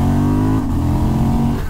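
A 2023 Honda Transalp motorcycle engine revs hard and close, its strong, steady engine note holding for under two seconds with no talking over it.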